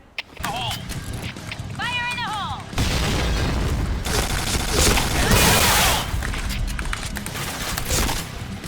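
Gunfire in the first-person shooter Point Blank, loud bursts and booms filling most of the clip amid game noise, with a player's voice talking over it.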